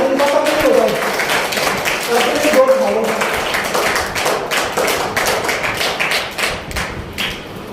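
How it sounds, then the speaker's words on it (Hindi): Participants at a journalist training programme in Rajasthan give a loud, steady round of applause, dense clapping that carries on for several seconds and slowly thins out, with voices mixed in. "एक बार आप सभी लोगों के लिए जोरदार तालियां"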